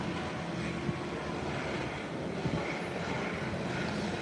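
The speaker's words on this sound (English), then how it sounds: "You can now hear the engine of that Brasilia Embraer 120." An Embraer 120 Brasilia turboprop roars steadily and loudly at an airport, a continuous broadband engine drone with slight swells and no talking.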